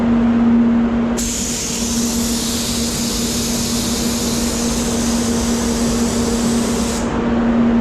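A spray gun lays down a water-based paint base coat, a steady close hiss that starts abruptly, runs for about six seconds and cuts off, with a low steady hum underneath throughout.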